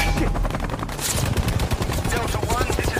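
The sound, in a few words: gunfire in jungle battle from war film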